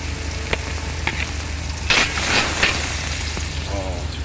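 Garlic and onion frying in hot oil, a continuous close sizzle broken by a few sharp spatters and scraping stirs, with faint talk now and then.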